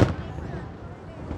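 Fireworks bursting at a Tet Lunar New Year celebration for the Year of the Rat 2020, watched by a crowd near a bridge: one sharp, loud blast at the start, then a rumbling, crackling tail that fades.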